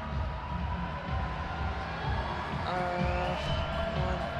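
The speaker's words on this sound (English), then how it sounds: "Crowd enjoying this." Spectators at an IFSC Climbing World Cup lead final in Edinburgh cheer and roar in a continuous dense wash of crowd noise, with a commentator talking over it.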